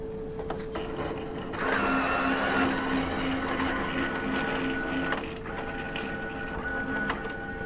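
An Entrust Datacard CR805-series card printer pulls an adhesive cleaning card through its full length and up into the vertical option, giving a steady mechanical whir and hum of rollers and motors with a louder stretch mid-run and soft clicks.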